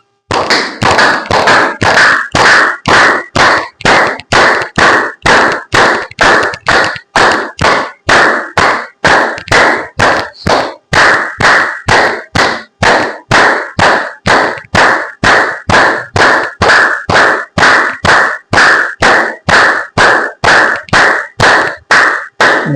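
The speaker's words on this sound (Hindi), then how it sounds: "तालियां बजाएं।" A group claps hands together during a yoga and pranayama practice session, producing about forty loud, evenly spaced claps in a steady rhythm with no talking.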